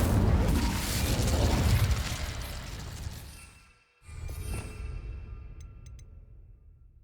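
A fire spell cast in Hogwarts Legacy bursts out as a loud roaring blast that fades over a few seconds, cuts to a brief silence, then gives way to a lower crackling rumble with a few small clicks.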